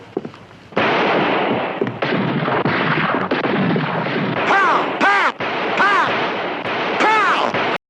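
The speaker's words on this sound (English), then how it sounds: "I'm gonna come on out, all right, with my guns blazing." Gunfire in a 1972 Western comedy movie shootout: a dense, loud, continuous barrage of shots and bursts runs under shouting voices, with a few short breaks.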